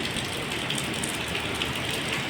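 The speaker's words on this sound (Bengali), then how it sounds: "পার্কে বৃষ্টি" Steady rain falling in a green park, a dense even patter of drops close by, continuous and alone without any talking.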